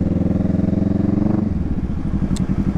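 A Kawasaki Z650 motorcycle with a loud aftermarket muffler drones steadily on an expressway, its deep pulsing exhaust close and dominant, easing from a throttled roar into a lower, lumpier rumble partway through.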